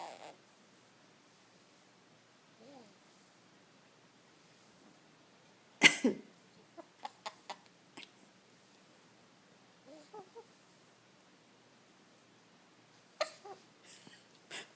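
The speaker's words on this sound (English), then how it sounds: "Oh, you have a terrible cough" A harsh, terrible cough comes in scattered bouts, including a sharp burst followed by several quick hacks and later a few more, close up against an otherwise quiet room.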